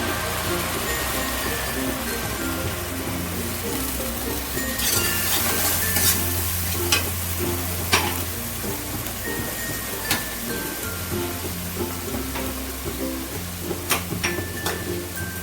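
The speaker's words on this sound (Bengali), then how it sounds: "এবার পোস্ত কাঁচা লঙ্কা যে বেটে রেখেছিলাম সেই পোস্ত কাঁচা লঙ্কা বাটাটা দিয়ে দিচ্ছি" Poppy seed and green chili paste frying with grated coconut in a pan, heard as a low sizzle with scattered stirring scrapes and clinks over the full stretch, under soft background sound.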